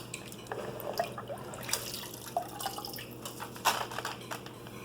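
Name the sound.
water dripping from rinsed sticky rice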